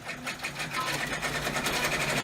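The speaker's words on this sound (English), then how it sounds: "when you're stitching this next run to secure it in place" An embroidery machine stitches a securing run on fabric for an in-the-hoop mug rug, a rapid, even mechanical chatter close and steady before stopping abruptly at the end.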